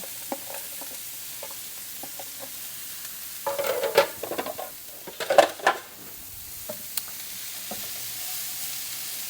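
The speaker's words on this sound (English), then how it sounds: "So now we are going to saute our carrots and onion and celery." Diced carrots, onion and celery sautéing in a pan, a soft steady sizzle with a few louder bursts of stirring and scraping in the middle, no talking.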